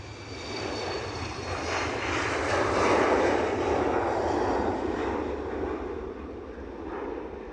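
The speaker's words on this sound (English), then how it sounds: "So second BA departure to Mallorca." A British Airways airliner departing Edinburgh for Mallorca roars past, its jet engine noise swelling to a broad peak midway and then slowly fading, heard clearly with no talk over it.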